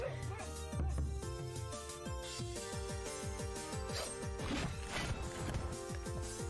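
A dog barks repeatedly in the video game Catlandia, several sharp yips and woofs mixed with game music and clattering effects, with a voice talking faintly underneath.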